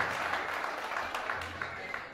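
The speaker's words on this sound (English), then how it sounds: "Give yourselves a hand of applause" Crowd applause at a hardcore show, a steady wash of clapping and cheering that carries through the whole stretch, with voices mixed in underneath.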